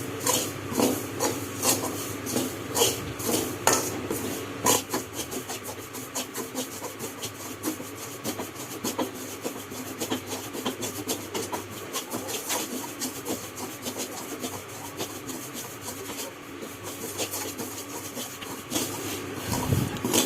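Roasted puttu rice flour rattles and scrapes as a ladle stirs and lifts it in a pan, giving a continuous dry, gritty rubbing texture with occasional sharper ticks, close and fairly quiet.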